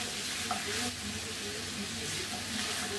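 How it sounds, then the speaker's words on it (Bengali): Bitter gourd with jackfruit seeds frying in oil on low heat, a steady soft sizzle and crackle under faint stirring, with a voice murmuring in the background. "শুধু তেল দিয়ে ভেজে নিব"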